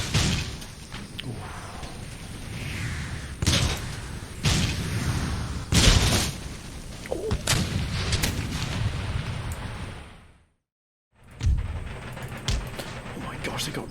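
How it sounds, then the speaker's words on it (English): Rocket troops firing in a battle of Empire: Total War, a series of loud booming blasts and crackling bursts packed close together, with a brief silent gap near the end and talk over the action. "Oh my gosh, they got rocket troops."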